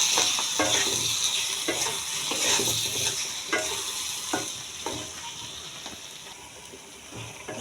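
Tomatoes sizzling and frying in oil as they are stirred into a cooked-down spice masala for chicken curry, with steady crackle, scraping stir strokes and a faint watery hiss, close and continuous.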